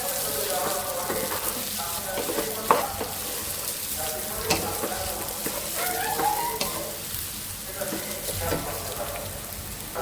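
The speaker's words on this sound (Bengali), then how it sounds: "পোলার চালটা ভেজে নিচ্ছি" Pulao rice is fried in a pan over a stove without ghee. A steady, close sizzle runs throughout, with scraping stirs and occasional clinks of the utensil. A faint voice is in the background.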